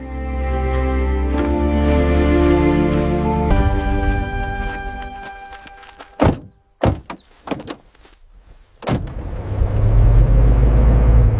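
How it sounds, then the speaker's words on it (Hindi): A car engine hums steadily, then a few sharp door clunks ring out before the vehicle pulls away with a low, building rumble. "गाड़ी चल पड़ी।"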